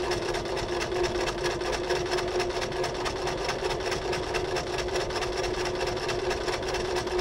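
A Brother LS-2020 sewing machine stitches a buttonhole with a small, short stitch length, running at a steady, even, rapid whir with a fine repetitive pulse, close up and continuous without any speech.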